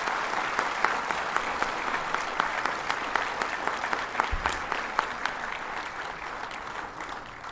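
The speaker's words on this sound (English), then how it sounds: "Please give a warm round of applause." An audience at a Supreme Court farewell function for a retiring justice gives a warm, steady round of applause. The clapping is dense and continuous, lasting several seconds at an even level.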